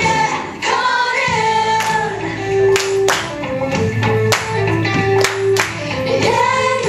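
A church congregation claps hands in rhythm during an upbeat song, sharp claps landing on the beat over organ or keyboard chords and singing, loud and close throughout.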